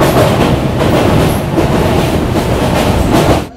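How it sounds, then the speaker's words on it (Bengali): A passenger train on the Kolkata–Prayagraj route running on its rails, a loud, close, continuous rumble with rhythmic clickety-clack of wheels over rail joints throughout. "আমাদের ট্রেন এসে দাঁড়িয়েছে দুর্গাপুর জংশন স্টেশনে।"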